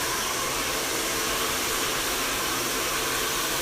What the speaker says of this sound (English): So now the dryer, the air is going to be blowing the opposite direction, and then you're going to set it over the brush.